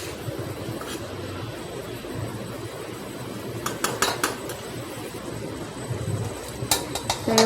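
A lid is set lightly onto a home kitchen pot of simmering potatoes and tomatoes, giving a few brief metallic clinks and taps over a low, steady cooking rumble, with a final clatter near the end.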